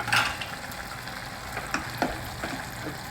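A vegetable curry cooks in a pan, with a soft continuous sizzle and a few scraping stirs of a spoon, fairly quiet and with no talking.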